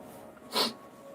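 One short, sharp sneeze bursts out close to the mic over a quiet room background, a single breathy blast lasting a fraction of a second.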